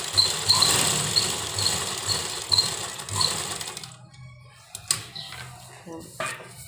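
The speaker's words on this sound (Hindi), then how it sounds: "इधर से हमें इस तरह से सिलाई लगानी है" An electric sewing machine stitches the lining of a trouser with a pocket, a steady rhythmic whirr running for about four seconds, then stopping, followed by a few faint clicks and handling sounds in a quiet room.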